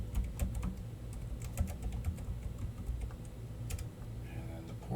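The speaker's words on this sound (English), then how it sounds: "I'll type the device type, and then the IP address" Quiet clicking of fingers typing on a computer keyboard, a steady patter of keystrokes under a low background hum.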